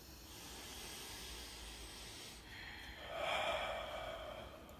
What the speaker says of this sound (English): we call it Darth Vader breathing, that you'll breathe out your vocal cords and make kind of that.